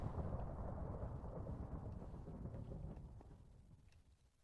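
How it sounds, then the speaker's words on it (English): Thunder rolls through a thunderstorm in modded Minecraft, a low sustained rumble that slowly fades, heard alone and fairly faint. "Got that thunderstorm rolling in, which is being loud."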